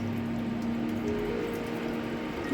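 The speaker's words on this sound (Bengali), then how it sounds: "ভাতের মধ্যে আমি জল ঢেলে দিলাম" Water poured into a pot of cooked rice for panta bhaat, a steady close gurgling trickle running continuously and evenly throughout, with a faint low hum beneath it.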